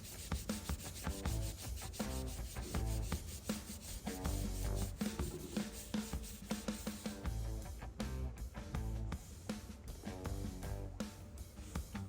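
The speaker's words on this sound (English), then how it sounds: "this harsh Scotch-Brite is going to be the thing that does the majority of the work in taking out the pitting and the corrosion" Corroded Harley Davidson motorcycle wheel being scrubbed with a harsh Scotch-Brite pad: loud, continuous abrasive rubbing in rapid back-and-forth strokes, close up and without talk.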